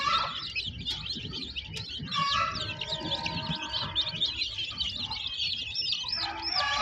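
Desi gavathi chicks and hens close by, a dense chorus of high, rapid cheeping peeps over soft clucks, continuous throughout with no talking.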